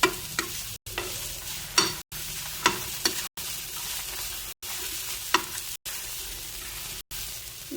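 Onion and tomato sauté lightly in a pan with a continuous soft sizzle, and a spatula scrapes and taps now and then, close by and with no voices. The sound cuts out briefly several times.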